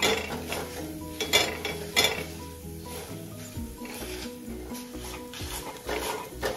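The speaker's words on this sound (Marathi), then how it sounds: "पूर्ण जोर लावून मी इथे ठेचा रगडते आहे।" Chilli thecha is ground on a hot iron tawa with a metal tumbler, giving a run of firm, rhythmic scrapes and occasional clanks close by, with no talking.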